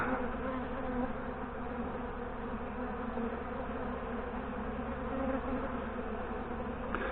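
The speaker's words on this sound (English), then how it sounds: "There's a wasp." Insects buzz steadily at beehives being fed sugar water, with a wasp among the bees, a dense continuous hum around the hives with no talk.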